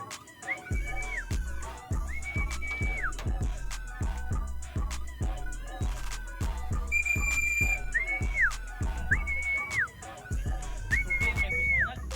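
Whistle at a pigeon loft as race birds arrive, repeated rising-and-falling whistled calls over a steady rhythm of background beats, loud and close.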